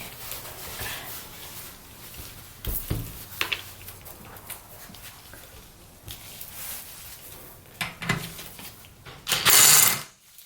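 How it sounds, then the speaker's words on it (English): A ratchet socket wrench clicks in quick bursts while bolts come off a Briggs & Stratton engine during a teardown, close metallic ratcheting spaced through the stretch, ending in a louder hissing burst. "So that one will take these two off, this socket will take that one off"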